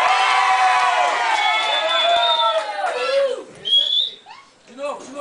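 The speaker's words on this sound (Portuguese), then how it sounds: "Palmas para a nossa vovó Mafalda!" A crowd at a camp event cheers and whoops, with high whistles and drawn-out shouts rising over the noise, then thinning into scattered calls.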